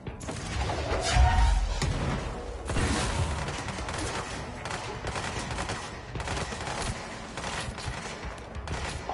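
Gunfire in Control on PS5: bursts of rapid shots crackle repeatedly in loud clustered volleys, with a heavy thump early on and dense clatter running throughout.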